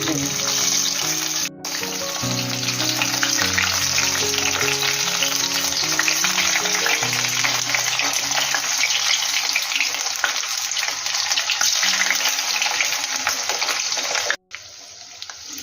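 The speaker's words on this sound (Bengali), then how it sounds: "তেলটা গরম হয়ে গেছে আমি পটলটা এইভাবে উবুর করে দেব" Stuffed pointed gourd (parwal) placed in hot white oil in a kadai sizzles loudly and steadily throughout. A short dip comes early, and the sizzle cuts off briefly near the end.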